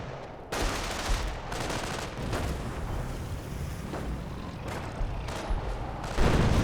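Artillery and mortar fire in the World War II strategy game Company of Heroes: a continuous rumbling barrage of booms and crackling blasts, dense and low-pitched, with a sharper impact near the end.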